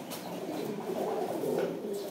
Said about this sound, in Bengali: আর এগুলো কিন্তু ভাই 4 দমের কবুতর